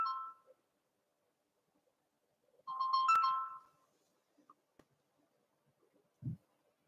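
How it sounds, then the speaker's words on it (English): A phone ringtone chimes in two short bursts of bright melodic tones separated by silence in a quiet room, followed by a soft low thump near the end. "Is that my phone? It is."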